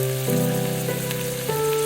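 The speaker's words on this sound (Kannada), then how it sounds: "ಸೊ ಇದನ್ನೆಲ್ಲ ಜಸ್ಟ್ ಒಂದು 30 ಸೆಕೆಂಡ್ ಫ್ರೈ ಮಾಡ್ಕೊಂಬಿಡೋಣ." Chili flakes, oregano and pepper powder fry in a pan for a creamy pasta sauce, giving a steady close sizzle under sustained tonal hum, with no talking.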